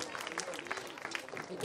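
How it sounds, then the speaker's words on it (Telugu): Children clapping in a hall during an Easwaramma Day and Balvikas Day celebration at a Sri Sathya Sai Mandiram in Khammam, a scattered, uneven patter of hands that runs steadily throughout, with voices murmuring over it. "గట్టి కొట్టాలి క్లాప్స్"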